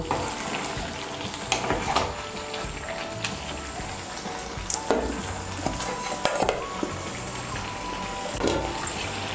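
Pui shak (Malabar spinach) curry being stirred in a pan with fried fish head, vegetables cooking in their own water; steady bubbling sizzle with scattered scraping and clinking stirs, close and fairly loud, no talk.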